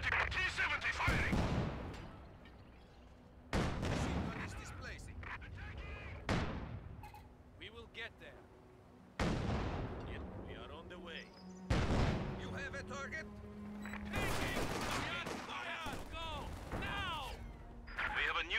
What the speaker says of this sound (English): T-70 firing!